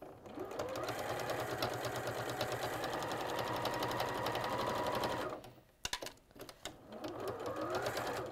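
A sewing machine stitches fabric continuously for about five seconds with a steady mechanical whir and needle rhythm, then stops and gives a few short bursts of stitching while backstitching at the ends of a seam.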